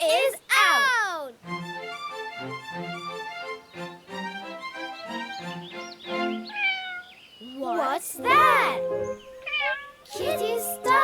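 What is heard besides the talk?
cat meowing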